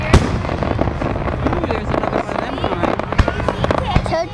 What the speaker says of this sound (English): I want to see all different fireworks on there.